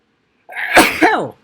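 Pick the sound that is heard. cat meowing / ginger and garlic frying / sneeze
sneeze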